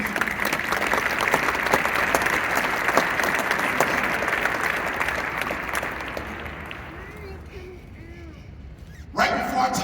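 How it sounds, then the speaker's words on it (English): A large audience claps and cheers loudly at a banquet speech, with sustained dense applause that fades out, followed by a short burst of sound at the end. "give yourself a round of applause"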